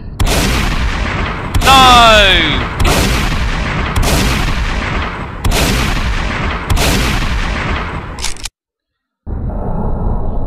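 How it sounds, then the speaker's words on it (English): Repeated heavy shotgun blasts in a zombie shooter game, about six loud booming shots at steady intervals of roughly a second and a half, each with a sharp attack and a decaying tail, with a brief shout among them and a short silence near the end. "Oh, I love this shotgun so much."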